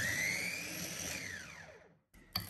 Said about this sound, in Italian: La mettiamo in un frullatore.